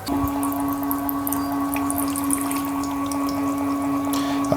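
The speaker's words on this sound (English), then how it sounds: "we'll let this finish its rinse cycle, and then we'll spin them off again" A Moyu portable folding washing machine hums steadily through its rinse cycle, a constant motor tone with water sloshing and trickling throughout, close and even, with no talking.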